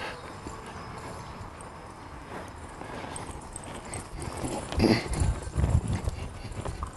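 Hooves of a two-year-old horse moving while working cattle, a scatter of thuds and clip-clops on dirt, quieter at first and then louder and closer near the end, without talk.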